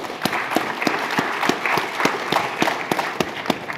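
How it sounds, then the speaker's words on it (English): An audience at a tech talk on Spring testing bursts into applause, a dense steady patter of many hands with sharp individual claps standing out, sustained and fairly loud throughout. "Give yourselves a round of applause for the crowd."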